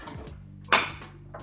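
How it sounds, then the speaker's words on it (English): A spoon scrapes and knocks once against a pot of vegetarian chili with beans, tomatoes and carrots, giving a single brief clatter, close and clear, against quiet kitchen background. "Give that little stir."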